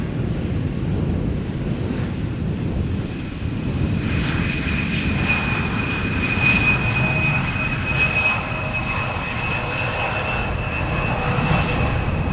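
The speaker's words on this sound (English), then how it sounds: "Embraer 175 arriving from Norwich, landing over here at Polderbaan." An Embraer 175 jet from Norwich lands on the Polderbaan runway at Schiphol Airport, making a broad, continuous engine roar that holds steady and fairly loud for about twelve seconds, with wind buffeting the microphone and no voices.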